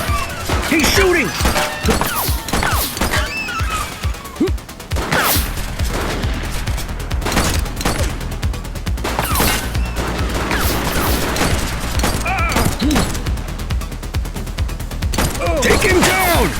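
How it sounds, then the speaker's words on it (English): Gunfire erupts in the police video game The Precinct, rapid loud shots and impacts packed densely under shouted voices and sirens-like tones for the whole stretch. "He's shooting!"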